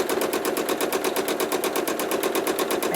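A sewing machine stitching in the ditch on a quilt with appliqué and freehand feathers, running in a fast, even, continuous rhythm of close stitches with no pauses.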